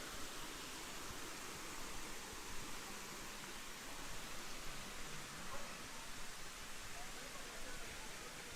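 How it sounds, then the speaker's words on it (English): Erawan Falls sends up a steady, dense hiss of falling water that fills the whole stretch, even and continuous, with no distinct individual sounds breaking through. "The waterfalls are starting to get bigger and bigger and prettier and prettier."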